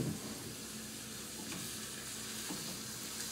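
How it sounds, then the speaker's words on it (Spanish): Tortillas fry in a pan for enchiladas, a continuous close, crackling sizzle with steady bubbling and no speech. "Bueno, vamos a freír las tortillas."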